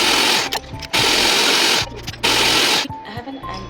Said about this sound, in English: I have an antique mixer, so this is how we do it